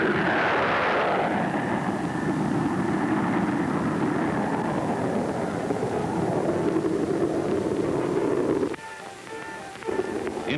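A Bell P-59 Airacomet jet engine roars steadily during high-speed test runs at a Navy experimental flight test base, a loud broad rushing blast that holds and then cuts away sharply near the end.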